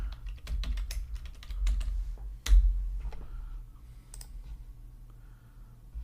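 Quick bursts of keystrokes on a computer keyboard, close and fairly loud, running in a steady patter over a low background hum that then fades to a quieter stretch.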